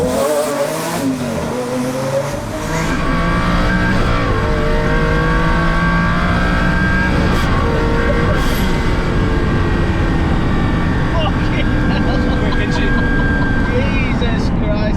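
A twin-turbo Lamborghini Aventador accelerates hard with its turbo intake audible: a loud, sustained engine roar that builds and stays dense throughout, heard up close.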